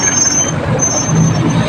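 Steady road traffic with trucks and engine rumble beside waterline roadworks in Manila, a continuous near drone with a faint high whine over it, no talk.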